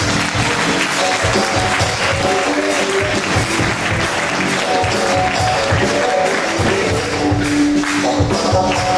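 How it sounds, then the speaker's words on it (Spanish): Audience applause at a live music and magic show, sustained loud clapping from a large crowd with scattered cheers, continuing unbroken for several seconds. "un forte aplauso para Alba Lamuras"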